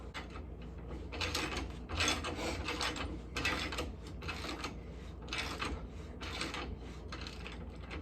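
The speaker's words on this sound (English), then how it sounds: "Put your nut on the back side. We'll get her torqued down." A ratchet wrench tightening a nut on a rear shock bolt, repeated bursts of rapid metallic clicking in an uneven rhythm, close and fairly loud with no talking.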